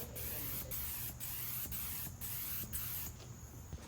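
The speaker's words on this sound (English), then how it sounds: "I did try some new spray techniques." A spray gun applies Cerakote coating to a Honda race car's custom exhaust, a steady close hiss broken by short regular pauses between passes, roughly six bursts in quick succession.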